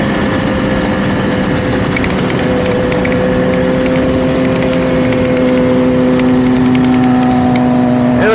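A BMW S1000RR motorcycle engine drones loudly and continuously while riding, its pitch climbing and dropping through gear changes under strong wind rush.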